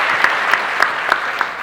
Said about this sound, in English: You may applaud now for the Reverend.